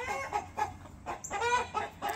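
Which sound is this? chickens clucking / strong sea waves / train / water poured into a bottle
chickens clucking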